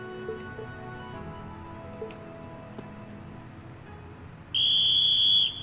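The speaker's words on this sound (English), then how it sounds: "He blew the whistle!" A whistle blown in the video game The Legend of Heroes: Trails of Cold Steel, one loud sustained shrill blast of about a second that comes near the end after a quiet stretch with faint ticks.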